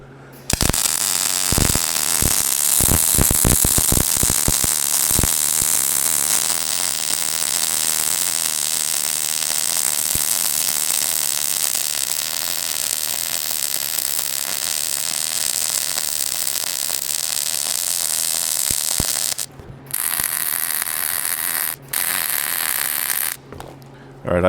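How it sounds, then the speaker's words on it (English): An electric welder runs while parts are fabricated for a custom scrap crane, with a steady buzzing crackle and several sharp bursts near the start. The noise drops out briefly near the end and then returns. "So I'm gonna take my time with welding this."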